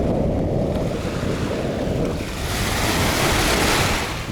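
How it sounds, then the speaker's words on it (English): Wind blows across a near-deserted beach with only one house nearby, a loud broadband rush buffeting the microphone, mixed with surf and rising in strength partway through. "There's only a little bit wind here coming from this direction here."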